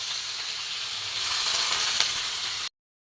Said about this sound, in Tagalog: Prito muna natin.